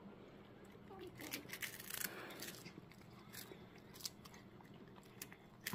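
A dog named Milky chewing a smelt fish close up, with faint repeated wet crunching and biting bursts over several seconds while quiet voices talk nearby.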